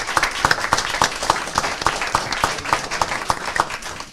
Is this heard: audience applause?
yes